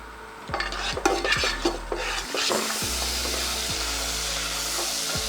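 Onion and salt hitting hot gingerly oil in a pan for chicken rasam, a few metallic clanks and stirs, then a loud, steady, close sizzle that keeps going with no talking.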